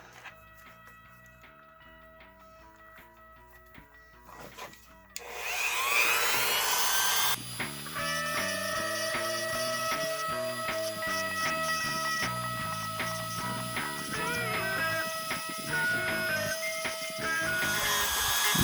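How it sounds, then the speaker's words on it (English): Rotary tool fitted with a smoother bit sanding action figure joints: a high, steady whine that starts about a third of the way in and holds for the rest, close and fairly loud, with faint tapping beforehand. "Let's go ahead and switch to smoother bit."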